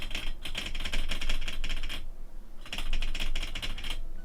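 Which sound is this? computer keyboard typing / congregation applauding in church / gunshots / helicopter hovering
computer keyboard typing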